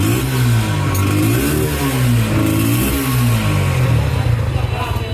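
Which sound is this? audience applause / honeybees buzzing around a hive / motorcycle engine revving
motorcycle engine revving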